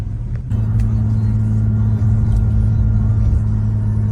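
A Nissan GT-R idles as it warms up, its engine a steady, loud, close rumble that holds even and unbroken after a short start.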